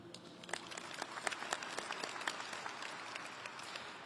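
An audience applauds at a military retirement ceremony, with dense, fairly faint clapping that carries on steadily throughout and no talk over it.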